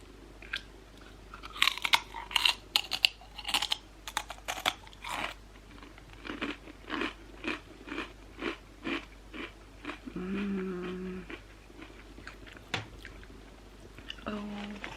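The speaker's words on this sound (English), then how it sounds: "There's the pop chip. Ready for some ASMR." Close, crisp crunching of barbecue Pop Chips being bitten and chewed, a fast irregular run of crackly bites followed by softer, wetter chewing.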